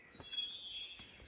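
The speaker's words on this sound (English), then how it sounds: "No idea what kind of bird that is." An unidentified bird in a Costa Rica cloud forest gives a few faint, brief chirps against quiet forest ambience, with a thin steady insect-like whine in the background.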